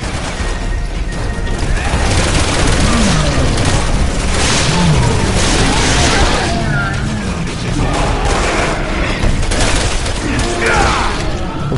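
Continuous loud gunfire and crashing impacts in Resident Evil 6, dense and chaotic with booms throughout, mixed with shouting voices and scattered mechanical clatter.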